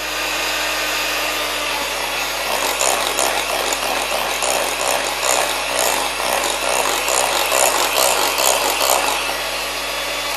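An electric mixer beats egg yolks into a cherry and almond cake batter, a loud, steady whirring drone with a gritty rhythmic churn running continuously throughout.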